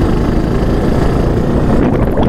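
A motorbike engine roars steadily up close, a loud continuous rumble with wind buffeting, while engine braking hard on a hairpin-bend descent in the Kolli Hills.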